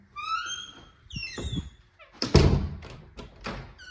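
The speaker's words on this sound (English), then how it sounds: "The door's working fine." A house door opens with a creaky squeal, then shuts with a solid thunk and a couple of follow-up knocks, close by inside a bedroom.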